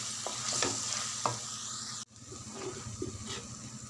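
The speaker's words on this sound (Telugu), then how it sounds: "ఒక 2 స్పూన్ల ధనియాల పొడి వేసి బాగా కలపాలి." Coriander powder being stirred into a frying masala curry with tamarind seeds, a spoon scraping the pan in several strokes over a steady close sizzle that cuts out briefly midway and resumes.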